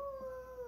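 A voice imitates an owl's hoot during a preschool circle-time animal-sounds game, giving one steady, sustained hooting tone at low volume with no other talk.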